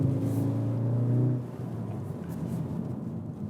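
A Skoda Octavia vRS 230 sedan drives along, its engine humming steadily before the tone drops abruptly as a gear change is made, then settles into a lower, even rumble from inside the cabin.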